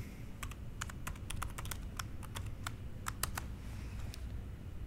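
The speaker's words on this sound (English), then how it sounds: "I'll remove my saved login credentials and enter the new ones I just created." Login credentials are typed on a computer keyboard, a close run of crisp, irregular key clicks over a low steady hum, with no voices.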